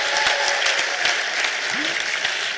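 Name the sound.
applause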